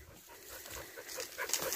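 Soft dog whimpers and panting close by, a few faint whines rising over a low rustling background.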